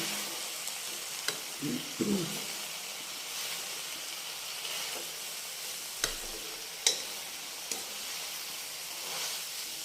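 Makoh (black nightshade) sabzi sizzling and frying in a pan, a steady hiss broken by occasional scraping stirs and light clinks of the spoon, close and fairly quiet.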